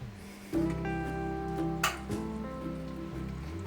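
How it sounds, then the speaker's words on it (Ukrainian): Hot brine from the fermenting pickled cucumbers is poured into a glass jar packed with cucumbers, giving a close, continuous splashing pour with gurgling tones, with a brief louder splash partway through and no speech. "Заливаю розсолом гарячим."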